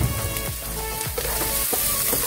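White onion and pepper sautéing in a pan, a steady close crackling sizzle with a few brief scraping stirs breaking through the hiss.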